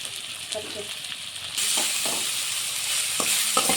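Vegetables fry in a pan for egg noodles, a quiet sizzle with light stirring clinks that suddenly jumps to a loud, steady hiss and crackle.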